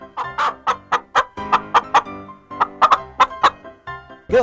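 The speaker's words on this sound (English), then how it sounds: "Chicken." Chicken clucking in a quick rhythmic series of sharp, close clucks with brief pauses, loud and clear with no talk over it, ending in a rougher squawk.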